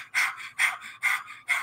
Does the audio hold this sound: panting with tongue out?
yes